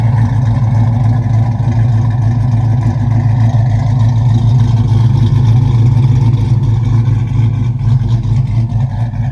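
A cammed 2010 Chrysler 300C, stage 2 cam on SRT 300 wheels, idles warm with a loud, steady, choppy low rumble that lopes continuously with no pauses or talk.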